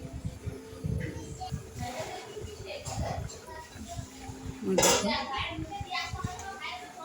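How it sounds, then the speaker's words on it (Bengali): A lid set down on a cooking pot during preparation of steamed fish, one sharp metallic clatter standing out clearly over steady kitchen background, with a voice and other voices talking around it. "কিছু সময়ের জন্য ঢাকা দিয়ে দিলাম।"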